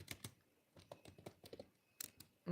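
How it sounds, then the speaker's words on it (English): Close, quiet typing on a computer keyboard during typing practice, with irregular clusters of key clicks and short gaps, ending in a sudden louder sound. "currently I am typing. I'm doing typing practice."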